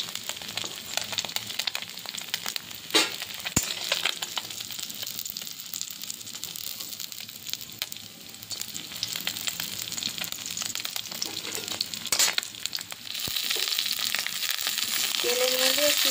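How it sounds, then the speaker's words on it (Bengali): Potatoes fry in hot oil with dried red chilli and black cumin, giving a steady, close sizzle that swells slightly toward the end, with occasional stirring clicks. "তেলের মধ্যে শুকনো লঙ্কা ফোড়ন দিয়েছি, আর কালো জিরা দিয়েছি, আর আলু দিয়ে দিয়েছি কিছুক্ষণ।"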